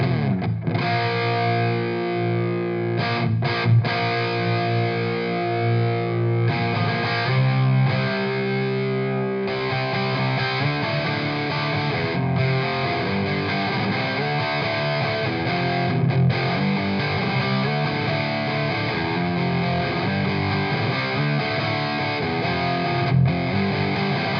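Electric guitar chords through a Wampler Plexi Drive Mini overdrive pedal, a warm classic-rock crunch playing steadily and loudly, sustained riffs ringing out with no talking.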